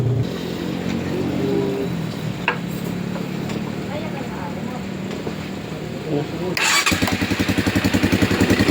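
A motorcycle engine cranks over and catches near the end after a battery is fitted, settling into a rapid, rhythmic idle, with faint voices and clatter beforehand.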